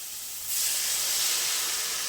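A sudden loud hiss of water poured into a hot pan while cooking fried rice, sizzling and steaming steadily after a quieter start.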